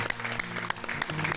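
A short burst of audience applause for Miss RTG, the winner of a beauty pageant, with dense steady clapping from a crowd lasting just over a second.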